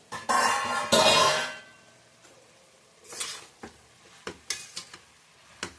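A lid comes off a cooking pot of vegetables, with a loud rushing burst at first and then a handful of light metallic clinks and taps nearby.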